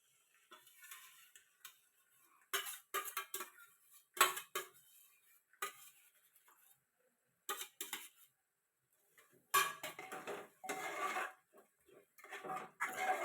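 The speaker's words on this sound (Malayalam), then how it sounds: "എടുത്ത തൈര് നമ്മൾ ഒഴിച്ചു കൊടുത്തിട്ടുണ്ടെങ്കിൽ നല്ലപോലെ ഒന്ന് ഇളക്കി മസാല എല്ലാം കൂടി ഒന്ന് മിക്സ് ചെയ്തെടുക്കാം" A metal spoon stirring yogurt into biryani masala in a pot, with intermittent scraping and clinking in short irregular bursts separated by pauses, close and quiet, no voices.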